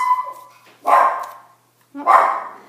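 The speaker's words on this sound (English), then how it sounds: "And there's my dog barking." A dog barks twice in short, loud bursts about a second apart, close by and indoors, with nothing else over it.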